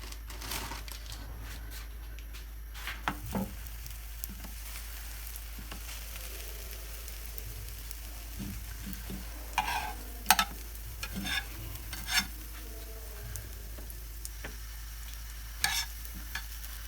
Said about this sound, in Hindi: ये भी टोस्ट जो है ना वो सारे हो गए फ्राई।